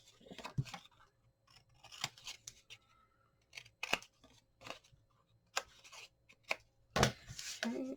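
Scissors snip through paper strips being trimmed for a handmade Midnight Kiss mini album, a series of short, crisp cuts at an uneven pace, close and fairly quiet, with no talking.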